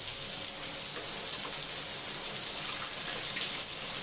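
Water poured during home cooking for a festival meal, a steady continuous hissing flow lasting throughout, even in loudness with no speech.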